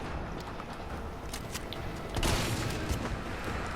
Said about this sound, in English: I'm going to use the shotgun on these guys